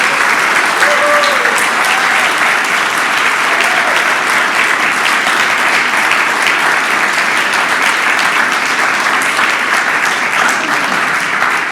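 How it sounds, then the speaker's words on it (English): Congregation at a Sunday youth-led coming-of-age service applauding, a long, loud, unbroken roll of clapping that carries evenly from start to finish. "can we just get another round of applause?"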